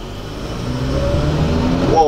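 A car driven hard autocross style from the inside, its engine rising in pitch as it accelerates with a loud, steady cabin roar and people talking over it.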